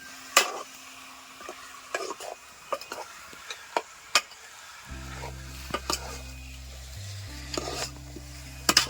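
Malvani mutton with ginger-garlic paste being fried and stirred in a pot over a wood-fired stove in Konkan, with a sharp spoon clank roughly every second over a faint sizzle, and a low steady hum joining partway through.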